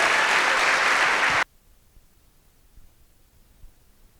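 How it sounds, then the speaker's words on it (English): Athletic awards audience applauding the JV team, a loud, dense burst of clapping that stops abruptly after about a second and a half, leaving near silence. "One more round of applause for our JV team"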